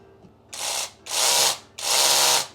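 A jigsaw from a Maker Pro 17-in-1 tool set runs at high speed in three loud, buzzing bursts of about half a second to a second each, separated by short pauses, with no talking.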